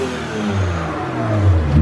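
A BMW E92 335i's N54 engine revving up close, a rising mid-pitched roar with turbo whine building toward a louder peak near the end, no talk.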